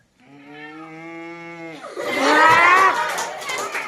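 A man imitates a buffalo's low, drawn-out bellow, steady and tonal, at a primary school performance, then a crowd bursts into loud cheering and applause.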